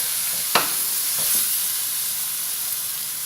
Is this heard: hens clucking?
no